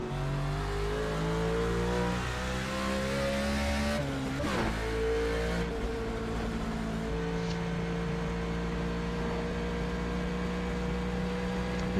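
A B-class race car engine howls steadily around Michigan in a driving game, loud and close, holding a high sustained pitch that dips briefly when lifting off and then climbs again.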